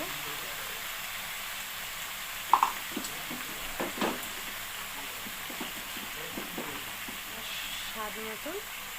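Turmeric and salt stirred into a fish curry of bata fish with bottle gourd greens frying in a pan: a steady soft sizzle with scattered light scrapes and taps of the spoon, close by.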